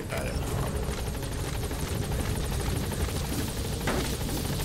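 Helicopter in the video game Metal Gear Solid V: a steady, loud rotor thrum with engine whine filling the whole stretch, a voice faintly talking underneath.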